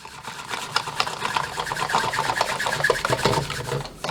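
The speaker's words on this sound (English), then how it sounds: "this is a secret technique of mine for whisking. You just get it and you go in between your hands like that" A wire whisk rolled rapidly between the palms in a pot of Christmas gravy gives a continuous fast rattling, scraping buzz, close and steady for about four seconds with no talking.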